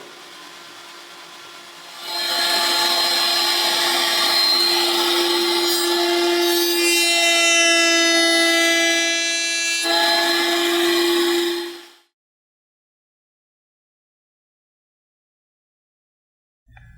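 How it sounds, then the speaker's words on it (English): A power drill bores into wood to clear excess material for a wooden hinge, a steady, loud whining grind that runs for about ten seconds before cutting off into silence. "This is the drilling phase to remove the excess wood, so you'll have room for your hinge to pivot."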